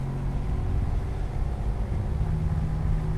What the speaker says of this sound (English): It's picking up the engine noise, my noise.